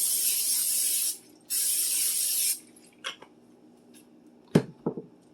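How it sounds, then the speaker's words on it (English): Butter-flavored cooking spray is sprayed into a casserole dish in two hissing bursts, a longer one then a shorter one, followed by a few light clicks and knocks of the can and dish. "Go ahead and spray your casserole dish."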